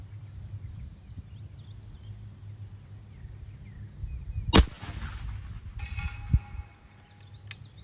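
An FX Dynamic air rifle fired at a steel target set out at long range, up to 300 yards. A single sharp crack lands about midway through, followed by a fainter impact and a faint ringing tone. There is low outdoor background noise throughout, with no talking.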